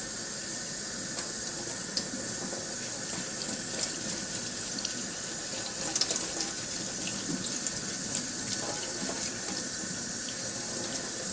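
Cold water runs steadily from a tap into a sink while a 20-gallon fish tank is being set up, a continuous close splashing hiss with no voices.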